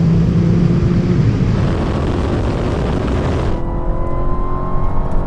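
Loud, continuous roar of a Dodge Challenger Demon and a Porsche 911 Turbo S drag racing, engines at full throttle with tire spin, the dense roar shifting and thinning slightly partway through as the cars pull away.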